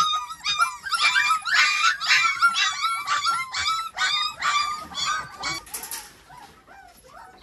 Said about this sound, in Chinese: 看那小狗了吗？